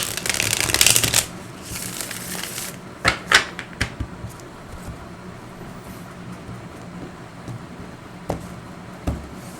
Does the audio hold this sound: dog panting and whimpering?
no